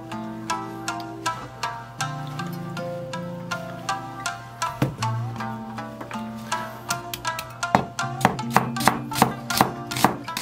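Half an onion is julienned with a knife on a cutting board, a long run of quick, crisp chops that speed up toward the end, with a tonal hum underneath.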